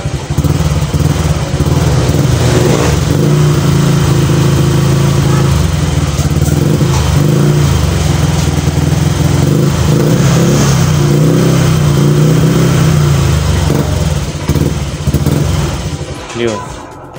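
A motorcycle with a check-engine fault and power loss revs loudly and continuously up close, its engine roar rising and dipping over a steady drone before easing off at the end.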